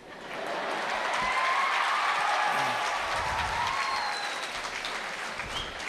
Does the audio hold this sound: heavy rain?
no